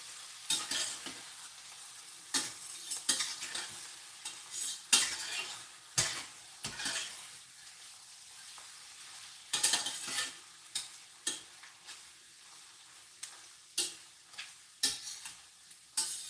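Mushrooms frying in a pan are stirred with a utensil, producing intermittent scraping and clinking strokes over a faint low sizzle, close and irregular with quiet gaps between.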